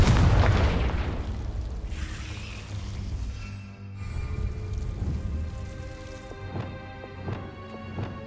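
A Confringo fire spell in Hogwarts Legacy goes off as a loud, close explosive blast with a deep rumbling boom, then crackles and rumbles away into a lingering roar of burning debris and magical shimmer.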